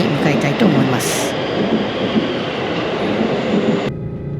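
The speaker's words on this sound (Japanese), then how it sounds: "逆のホームに JR 西日本名物新快速が入線してきました" JR West Special Rapid Service train pulling into the opposite platform, a steady loud rumble of wheels and motors that runs throughout and then cuts off abruptly near the end.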